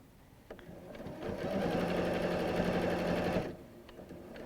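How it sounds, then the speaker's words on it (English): A sewing machine stitches across a quilt in a single close, steady whirring run of about two seconds that ramps up, holds an even buzzing pace and then stops, with quiet room sound before and after. "And then sew all the way across."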